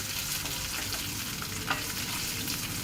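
Cumin seeds and curry leaves fry in hot oil for curd rice, giving a dense, steady crackling sizzle that holds loud and close from start to finish.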